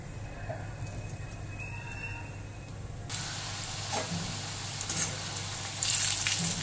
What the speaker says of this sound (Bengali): আলুগুলোকে ভাজার জন্য কড়াইতে দিয়ে দিয়েছি বেশ কিছুটা রিফাইন্ড তেল।